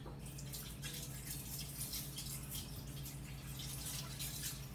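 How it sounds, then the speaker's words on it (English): Tap water runs steadily into a kitchen sink while hands are washed, a constant close hiss of flowing water with faint splashing and a low background hum. "I'm gonna wash my hands real quick."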